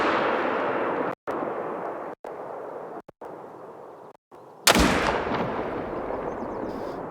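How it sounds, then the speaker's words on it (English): Rifle fire at a range in Call of the Wild, one loud sharp report near the middle followed by a ringing decay, with several abrupt cuts in the steady background hiss before it. "I'm not shooting as fast as I possibly can because I'm trying to get good or decent shots at least"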